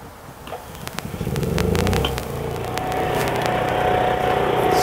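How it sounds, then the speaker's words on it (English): An Onan generator on a 2005 Aerolite travel trailer cranks and starts, a few clicks and a brief churning turnover before settling into a steady, fairly close running hum. "plenty of power to start that generator though"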